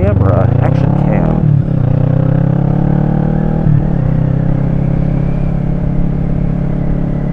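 A motorcycle fitted with a USB charger and action camera rides along Sunset Boulevard in Los Angeles, a loud steady engine drone with a gear change and revving early on, heavy wind rumble throughout.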